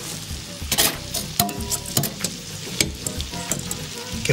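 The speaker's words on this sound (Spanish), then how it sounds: "Pero ya para acabar, le vamos a echar un poquito de su propio caldo." Pork trotter broth is poured into a hot pan with trotters and turnips, setting off loud crackling sizzle and sharp bursts of spitting fat under steady frying hiss, with stirring clatter throughout.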